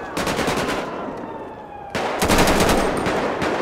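Rapid automatic gunfire in GTA 5 during a police response to a jewelry robbery, sustained bursts crackling loudly, with a brief lull before a second, heavier volley of repeated shots.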